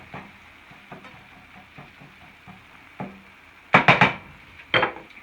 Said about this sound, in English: So let this simmer for like 1 to 2 minutes.